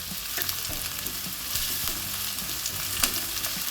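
Curry leaves fry with onions browning in a pan for a Kerala yam masala, giving a steady sizzle and crackle with occasional stirring scrapes, close and alone without talk.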